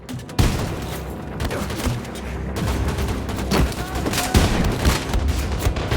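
Video game gunfire from a small pistol-like grenade launcher rings out as loud, dense bursts of shots, with sharp cracks and booms packed close together over several seconds.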